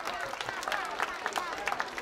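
Warm applause from a concert audience after a performance in Białystok, steady scattered clapping with some crowd voices mixed in throughout.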